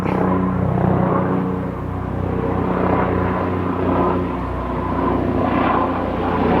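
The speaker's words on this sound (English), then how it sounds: "a Care Flight helicopter flying over, so we're just going to wait a second because I know that's loud" A medical helicopter drones loudly overhead, a steady, rumbling roar that fills the whole stretch with no talking.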